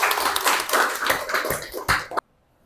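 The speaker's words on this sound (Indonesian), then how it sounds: "Oke, tepuk tangan." Students clapping hands together in a classroom, a brief burst of close, brisk claps that ends abruptly in silence.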